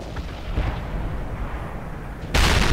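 A Waffentrager E-100 tank destroyer in World of Tanks fires a heavy artillery-style shot: a sudden loud, booming blast that cuts in near the end over a low rumbling battlefield background.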